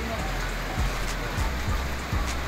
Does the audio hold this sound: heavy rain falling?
yes